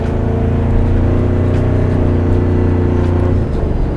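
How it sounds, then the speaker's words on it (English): A 2024 Toyota Tacoma TRD Sport pickup accelerates hard, its engine a loud, dense low drone with turbo whine layered on top, heard from inside the cab for a few seconds with no talking. "you get some cool turbo noises and fun"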